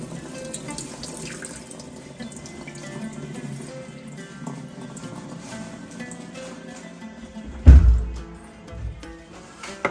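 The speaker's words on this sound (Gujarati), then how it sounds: "આપણે પહેલા ડુંગળી ધોઈ દેવું ચોખ્ખા પાણીએ" Tap water runs steadily into a kitchen sink while onions are rinsed, a continuous near splash broken around the eighth second by a louder clatter and gush.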